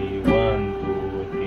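A piano played in three-four time during a beginner lesson, a run of ringing notes following a strong opening attack, heard alone at moderate loudness without talk.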